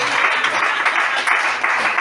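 Sustained audience applause and cheering at a French-language church seminar, a dense steady wash of many hands clapping with no pauses, loud and close throughout.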